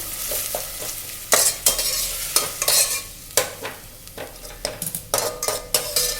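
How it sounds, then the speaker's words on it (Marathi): Tomato puree is stirred into ginger-garlic paste frying in a pan for egg biryani. A steady sizzle runs under repeated scraping and clinking strokes of a spoon against the pan, close and uneven, with no voices. "आता आपण त्याच्यामध्ये टॅमॅटोची प्युरी टाकायची आहे चांगलं मिक्स करून घ्यायचे"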